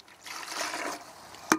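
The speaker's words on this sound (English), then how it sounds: "And we're going to add 400 mils of water" Water pours steadily into a pre-wetted bucket for mixing coral restoration cement, a continuous splashing trickle that builds then ends with a brief clunk.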